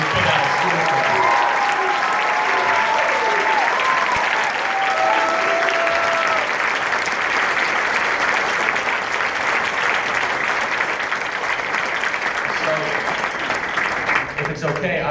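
Sustained applause from a live audience at an evening political speaking event in Alpharetta, Georgia, steady and dense for the full stretch with no voice rising above it.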